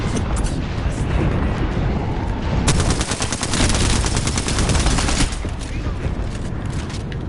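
Sustained automatic gunfire in an Apex Legends match, loud and dense, with rapid bursts that swell to a heavier barrage midway and then ease back into steady shooting.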